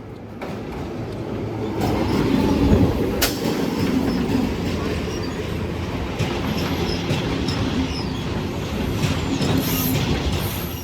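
A down Sealdah local passenger train rumbles past close by at Bidhannagar station, wheels clattering steadily over the rails with occasional high squeals, loud throughout.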